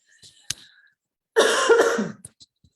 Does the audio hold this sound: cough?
yes